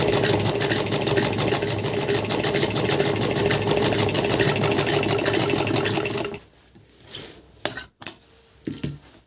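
A domestic sewing machine runs at full speed, stitching with a loud, fast, continuous mechanical whir and needle clatter for about six seconds, then stops, leaving a few scattered handling clunks.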